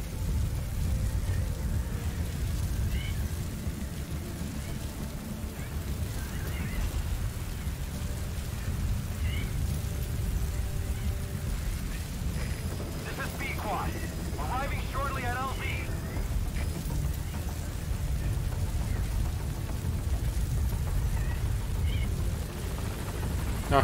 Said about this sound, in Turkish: So sandstorms come in.